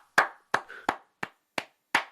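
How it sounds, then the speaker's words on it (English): One person claps hands six times in an uneven rhythm, each clap sharp, close and loud with short gaps between, no voices. "Let me give you a round of applause."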